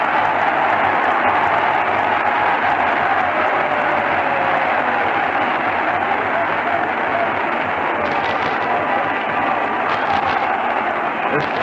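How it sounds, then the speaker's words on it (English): A packed basketball arena crowd at a 1973 NBA semifinal between the Baltimore Bullets and New York Knicks roars and applauds continuously, a loud, unbroken din with a commentator's voice faintly threaded beneath. "This crowd is going just berserk."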